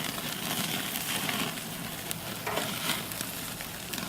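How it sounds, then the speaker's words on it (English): Meat searing in a pan at home, a dense, continuous sizzle and crackle of frying that stays steady and fairly close throughout, with no talking. "I sear it in the pan"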